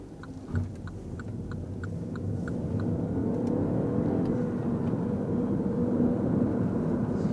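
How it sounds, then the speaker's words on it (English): A 2015 MINI Cooper F56 with a 3-cylinder engine accelerates while driving, its engine note building to a steady loud drone heard from inside the cabin, with a few faint clicks early on. "that little 3-cylinder engine really pulls quite well"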